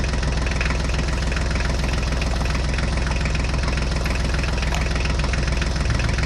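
A tractor engine idles and runs steadily nearby, a continuous low, knocking rumble that holds at one level throughout with no voices.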